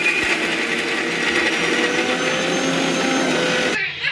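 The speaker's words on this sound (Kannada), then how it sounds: "ಈಗ ಇದನ್ನು ರುಬ್ಕೊಂಡಿದ್ದೀನಿ. ಈಗ ಇದಕ್ಕೆ ನಾನು ಫ್ರೈ ಮಾಡ್ಕೊಂಡಿರೋವಂಥ ಬೆಂಡೆಕಾಯಿನ ಆ್ಯಡ್ ಮಾಡ್ತಾಯಿದ್ದೀನಿ" A mixer grinder whirs loud and steady as it grinds fried okra into a coarse chutney, a continuous motor drone that cuts off abruptly at the end.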